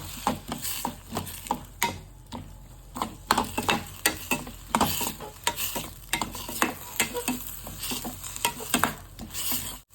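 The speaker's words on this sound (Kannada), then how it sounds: "ರುಚಿಗೆ ಎಷ್ಟು ಬೇಕೋ ಅಷ್ಟು ಉಪ್ಪು ಹಾಕ್ಕೊಂಡು ಚೆನ್ನಾಗಿ ಫ್ರೈ ಮಾಡ್ಕೋಬೇಕು" Onion and tomato with salt frying in a pan for a mushroom gravy, with a soft continuous sizzle under frequent rhythmic scraping strokes of a spoon stirring, close and steady with no talk.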